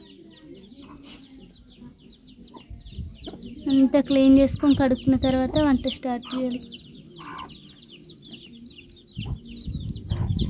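Chickens cluck and small chicks peep repeatedly nearby in a village setting while a person talks over them.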